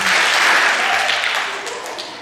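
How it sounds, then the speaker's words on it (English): An audience at a school awards ceremony claps loudly as students are called up, a dense burst of many hands that fades slightly toward the end. "if you would please give them 2 claps on their way up"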